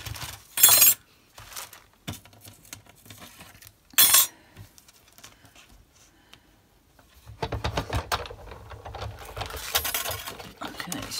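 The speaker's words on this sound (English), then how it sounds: "So let me just cut this piece." Card paper being cut by hand for a handmade guitar card, with a few sharp crisp snips and rustles separated by quiet pauses, close by, followed by rougher handling noise toward the end.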